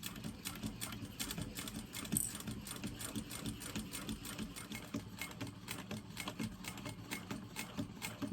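A sewing machine runs steadily while stitching a seam on a tote bag, its rapid even needle clatter continuing at moderate level throughout with no pauses.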